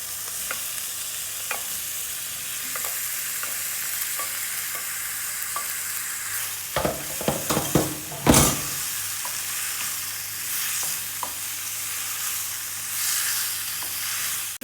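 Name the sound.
bitter gourd (karela) added to hot oil, sizzling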